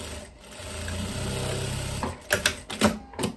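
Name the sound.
sewing machine stitching viscose dress side seam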